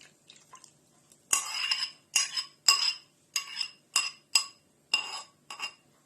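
A spoon mixes crushed biscuits with melted butter in a bowl for a cherry cheesecake base, giving about eight sharp, close clinking and scraping strokes in an uneven rhythm, with no talk.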